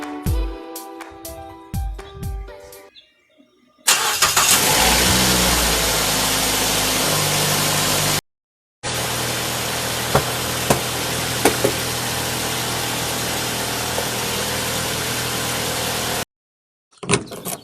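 A 2010 second-generation Mazda 3 engine starts and settles into a steady idle, heard close up as a constant hum broken by brief silent gaps.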